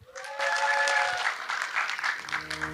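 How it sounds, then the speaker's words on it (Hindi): An audience at a televised Arunachal Idol singing contest claps for a contestant, a steady wash of applause starting after a brief moment, with tonal music sounding beneath and at the end. "उनके लिए एक बार जोरदार तालियां हो जाए।"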